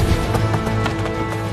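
Wild horses in Nevada moving over ground, hooves clip-clopping in a quick, steady rhythm of repeated thuds, fairly close and alone with no talk.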